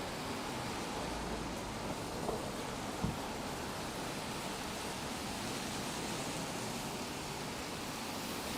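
Steady rain patter and road wash fill a drive through downtown Toronto via Forest Hill toward Spadina, a constant broadband hiss with no talk, one faint brief knock near the middle.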